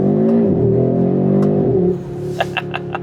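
An Audi RS3 engine revs loud and close, its pitch swinging up and down twice. The tone then drops at a crisp dual-clutch gear shift, followed by a run of sharp exhaust crackles.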